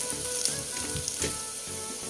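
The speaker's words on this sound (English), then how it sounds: "So we allow the onions to brown a bit" Chopped onions sizzle and crackle steadily as they brown in a hot pan, a continuous close frying hiss with small pops throughout and no talking.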